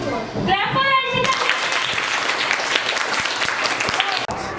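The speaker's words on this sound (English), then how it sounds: "Clap for Archita" Schoolchildren in a classroom burst into a few seconds of brisk, close clapping right after a short spoken prompt.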